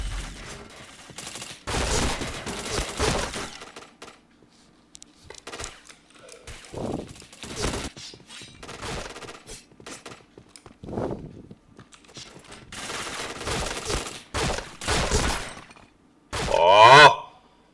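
Gunfire in a shooter video game: scattered bursts and single shots, some close and loud, others distant and faint, separated by quiet gaps, with a sharp loud burst near the end.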